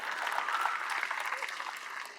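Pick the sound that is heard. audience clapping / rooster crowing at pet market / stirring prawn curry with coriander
audience clapping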